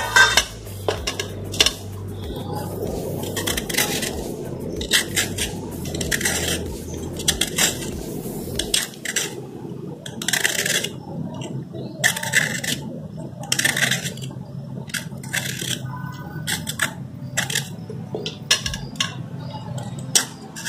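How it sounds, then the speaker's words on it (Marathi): Skin is being peeled off a desi ridge gourd while preparing a Maharashtrian bhaji, heard as close, repeated light scraping and clicking strokes over a low steady hum. "आता आपण वरच दोडक्याच साल काढून घेऊया।"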